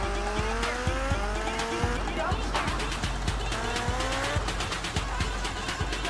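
A car driving in GTA Vice City, engine note rising and falling through repeated gear shifts with some tire squeal, loud and close, while a person talks over it.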